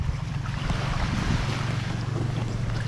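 Loud, steady rush of rough sea waves off Burias Island, Masbate, Philippines, mixed with heavy wind buffeting, close and continuous, no voices.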